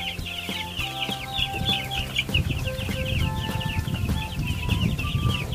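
Broiler chickens in a small backyard poultry setup cluck and chatter continuously while being fed from a bamboo feeder, a dense close chorus of overlapping calls and peeps.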